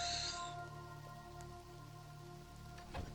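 Steady rain falls in the Mind Over Magic video game, a soft continuous patter that stays at an even level for the whole stretch with a faint tonal music bed underneath.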